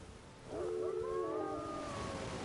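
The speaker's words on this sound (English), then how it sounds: "It's raining wolves again." Wolves in the Elden Ring video game let out a long, faint wavering howl with overlapping voices, rising then sustained over a low hiss.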